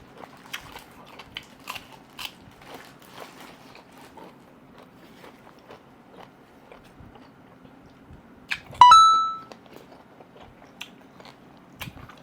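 Close, quiet chewing of squid boiled in soy sauce, with soft repeated bites and wet crunches, then one sharp brief clink near the end.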